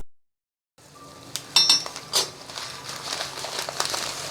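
A 200-gram packet of roasted vermicelli is cut open and tipped into a pot for curd semiya, with crinkling plastic, a few sharp clinks and a steady patter of dry strands pouring in, close and moderately loud after a short silence.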